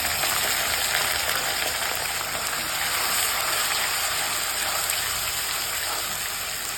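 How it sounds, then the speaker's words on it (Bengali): Onions fry in a hot pan for palak paneer, giving a steady, loud, close sizzle and hiss that holds without a break. "পেঁয়াজটা একটু ভাজা ভাজা হতে থাক পেঁয়াজটা ভালোভাবে ভাজা হয়ে গেছে"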